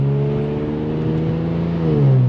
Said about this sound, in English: it's probably not the best sounding car out there, but dude, like, this thing sounds nice